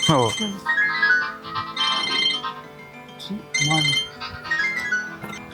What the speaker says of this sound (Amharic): ስልክ ሲደወል ሁሉም የሚደበቀው ነገር ግራ ነው ማጋባኝ።